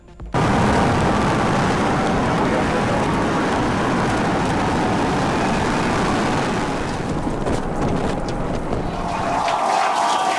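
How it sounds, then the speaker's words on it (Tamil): A SpaceX Super Heavy rocket exploding after launch on its third flight, heard as a sudden onset into a sustained, loud, rumbling roar with crackling texture that persists for about ten seconds. "எலான் மஸ்கிற்கு சொந்தமான ஸ்பேஸ் எக்ஸ் நிறுவனத்தின் சூப்பர் ஹெவி ராக்கெட் வெடித்து சிதறியது."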